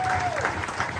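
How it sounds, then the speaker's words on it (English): A gala ball audience breaks into loud, dense applause that fills the room, with a faint sliding whistle-like tone and voices mixed into the clapping. "this deserves a massive round of applause"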